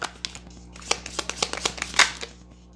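A deck of tarot cards is shuffled by hand close up, giving a quick run of crisp riffling snaps and flutters over about three seconds, with no talking.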